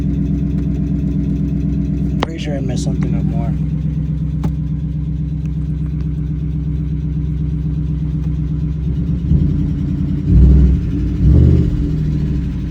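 A Ford F-150 pickup with a blown motor and a cylinder 4 misfire runs at a steady, loud idle, then rises in two short revs near the end. Someone speaks briefly over the rumble.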